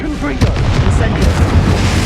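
Fiery spell blasts from Confringo and Incendio in the Hogwarts Legacy video game, a rapid string of booming bursts and crackling impacts over a dense rumbling combat bed, with voices calling out spell names.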